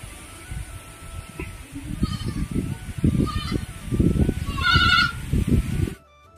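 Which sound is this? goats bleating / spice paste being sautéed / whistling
goats bleating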